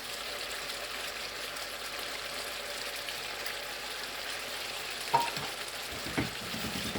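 Garlic and chopped tomato frying for lamb keema, a soft continuous sizzle with a couple of sharper clinks and stirring sounds near the end, faint and without talk.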